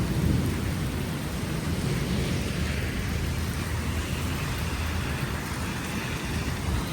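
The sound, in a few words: heavy rain with thunder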